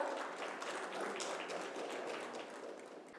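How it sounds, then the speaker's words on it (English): A conference audience claps for the panel moderator, a bank's chief technology officer, at a session on employee and customer experience; the applause is soft and distant, an even patter that thins slightly toward the end. "Can we have a big round of applause for Mr. Dhingra?"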